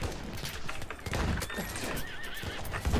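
A horse neighs loudly and shrilly in the World War I shooter game Battlefield 1. The close whinny is layered over hoof clatter and busy game noise.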